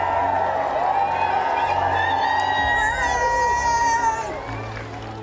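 Crowds in Windsor cheer and shout for the new monarch, King Charles III, a steady loud roar of many voices with whoops and scattered high calls, fading slightly toward the end.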